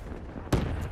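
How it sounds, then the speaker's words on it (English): A single loud gunshot bursts from the Call of Duty Black Ops 3 match, a sharp blast midway through an otherwise low, rumbling background, followed by a brief fainter echo. "Why are you just continually shooting then?"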